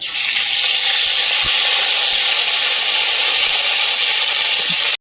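Five-spice seeds sizzling and crackling in hot oil in a wok, a steady loud hiss that continues without a break, with a few soft knocks scattered through it.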